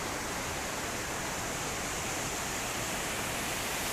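A mountain waterfall with smaller cascades beside it near the Uhl river gives a dense, unbroken roar of rushing water, loud and close and steady throughout, with no voices.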